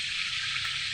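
Pork sizzling steadily in a hot pan for humba, a dense, continuous close-up frying hiss with no breaks and no voices.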